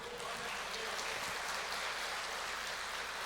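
A church congregation at a formal Sunday service claps for the Lord in a dense, even roar of applause that holds steady throughout, with no voice over it.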